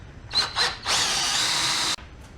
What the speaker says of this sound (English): And then I can drill through with my final bit